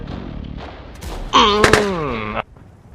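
In the World of Tanks video game, a tank cannon fires once with a sharp blast followed by a loud, ringing metallic whine that cuts off abruptly.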